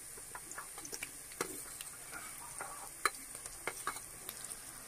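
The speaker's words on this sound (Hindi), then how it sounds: "प्याज को और लहसुन को हम कुछ सेकंड के लिए पकाएंगे।" Chopped onion, garlic and green chillies sautéing in hot oil for street-style chicken noodles, a continuous close sizzle with scattered crackles and pops as the pan is stirred.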